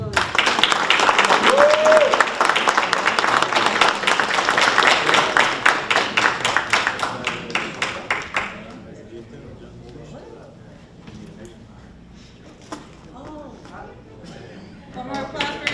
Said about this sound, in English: One more applause for Ethan.